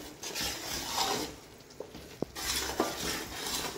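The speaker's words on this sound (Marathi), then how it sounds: "तर मी आता याला व्यवस्थित मिक्स करून घेते." Roasted semolina stirred with milk in a pan, soft scraping strokes and a light sizzle with a few sharp clinks of the spoon against the metal, close and quiet, without talking.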